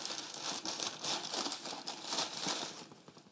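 White paper inside an Air Jordan 4 Retro Thunder shoe box is peeled back, giving close, continuous crinkling and rustling that fades out at the end.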